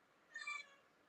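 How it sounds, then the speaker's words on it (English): A single short cat meow sounds faintly in an indoor room, a brief rising-and-falling cry lasting about a quarter second against quiet background. "If you hear some meowing in the background, sorry for that."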